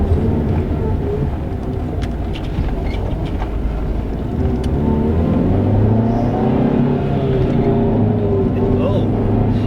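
A manual Honda Civic daily driver engine drones steadily from inside the car while driving, a loud low rumble that swells slightly as it revs, with a voice faintly underneath.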